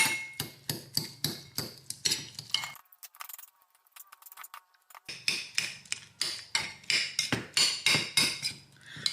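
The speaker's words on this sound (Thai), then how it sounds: "บี้เต้าหู้ ให้มัน เละ ต้องใช้ช้อนด้วย บี้เต้าหู้ค่ะ" A metal spoon mashing tofu in a bowl for vegan scrambled tofu, a fast steady series of sharp clinking taps that stops briefly midway and then resumes, close and fairly loud, with no talking.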